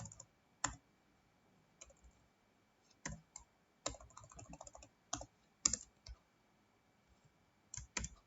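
HTML code being typed on a computer keyboard: sparse, close key clicks come in short bursts with long quiet gaps between them, and no one talks.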